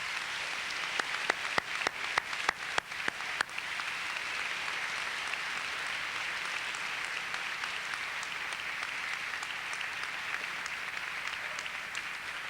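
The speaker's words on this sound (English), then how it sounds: "let's give them a round of applause" A crowd applauds at a 1992 high school graduation ceremony, starting with a few scattered claps that swell into steady, dense clapping from a large audience, heard from a moderate distance.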